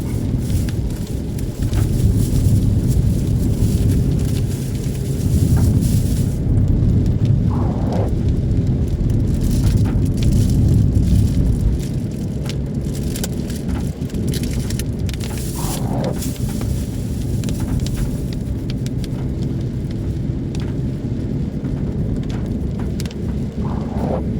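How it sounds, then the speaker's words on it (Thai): Heavy rain pours over a mountain road through the Chong Tako pass between Non Din Daeng and Ta Phraya in Thailand, a steady, close, dense wash of noise that runs unbroken throughout, with no talk. "ฝนตกปล่อยๆนะครับคุณผู้ชม"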